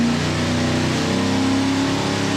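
A 1967 Ford Mustang V8 runs steadily on a dyno, its loud, continuous engine drone holding a constant idle-to-mid rev level with a slight pitch shift partway through and no voices.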